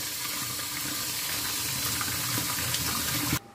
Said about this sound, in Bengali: এই চালটাকে আমি ধুয়ে নেব। এখন ধুয়ে নিচ্ছি।